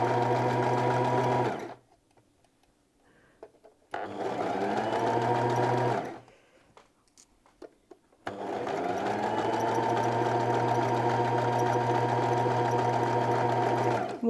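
A sewing machine stitching fabric for pyjamas runs in three steady bursts: a short one, a medium one, then a long continuous run. Its close, even mechanical hum is broken by quiet pauses.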